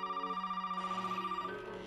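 A telephone rings inside a Resident Evil 7 game scene, a steady electronic bell trill repeating rapidly for about two seconds at moderate level before fading, alone.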